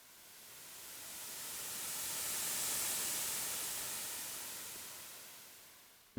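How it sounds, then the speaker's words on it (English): A soft wash of hissing noise swells gradually and fades away, smeared and airy like a reverberant tail, ending with a short thump. "Sounds a lot more believable if we add like a little bit of reverb."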